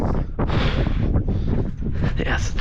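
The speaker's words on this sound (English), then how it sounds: "Yes, it's windy." Gusty wind buffets the microphone outdoors beside a Mack truck with a failing turbo, a loud, roaring rumble that swells and dips, with a voice speaking briefly underneath.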